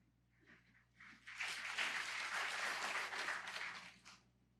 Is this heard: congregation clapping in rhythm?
yes